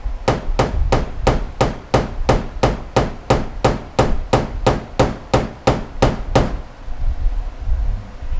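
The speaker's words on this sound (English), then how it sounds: "all I want to do is just tap them down where they're flat" A body hammer with a pick end taps high spots flat on a cleaned metal panel of a 1966 Mustang under restoration, about nineteen sharp, evenly spaced ringing strikes, loud and close, then stopping to quiet room tone.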